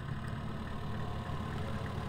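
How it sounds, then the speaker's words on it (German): The Opel engine of an NSU Kettenkrad HK 101 half-track runs steadily at idle behind the driver's seat. It gives a close, continuous low rumble throughout. "Wir haben hier einen guten Blick direkt hinter dem Fahrersitz, wo der Opel-Motor werkelt."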